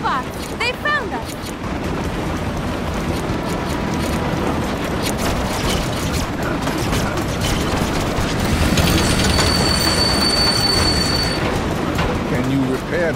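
Rumbling train running in The LEGO Movie Videogame, a steady loud rolling bed with rattling clatter and high tonal whines, continuous throughout with game effects layered on top.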